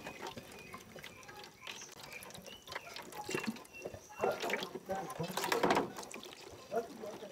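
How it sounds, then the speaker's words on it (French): Water poured into a homemade garden fertilizer mix, faint uneven splashing and gurgling in irregular bursts, growing louder toward the middle, with soft handling noises. "Nous allons ajouter 1 litre d'eau."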